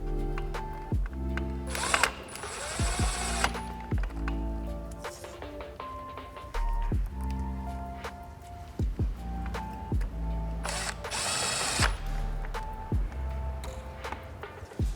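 Two screws are driven back in while fitting RGBW daytime running lights to a Toyota MKV Supra (A90/A91). Several short motorized whirs and ticks come close up, separated by brief handling noises, with no talking.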